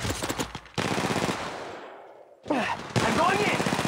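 Rapid automatic gunfire from an Apex Legends Mobile firefight, dense bursts that fade briefly before loud shooting resumes, with a faint voice under the shots.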